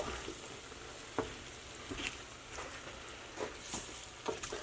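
Sausage gravy made with half and half heats in a cast-iron skillet, giving a soft, steady simmering hiss broken by scattered faint scrapes and clicks of stirring.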